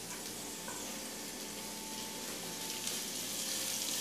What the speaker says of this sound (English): Yeah, hear that sizzle?